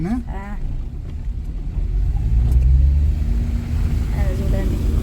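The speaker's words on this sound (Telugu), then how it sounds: "ఇట్లా మన కారు పోతలేదు అంత పక్కల పొంటి ఇంత ఎత్తులు వేస్తున్నాయి వాటర్ అట్లా ఉంది" A car drives along a flooded road during heavy monsoon rain, its low engine rumble steady and close, with a brief human voice near the start.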